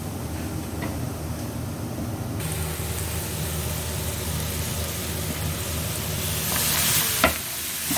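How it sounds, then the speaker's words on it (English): Garlic fries in a pan for tomato and basil soup, a continuous close sizzle with scraping stirring strokes, brightening midway and ending with a sharp clink of the utensil. "just so you don't let the garlic burn onto the bottom of the pan"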